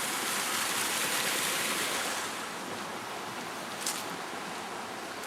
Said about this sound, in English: There's the old creek.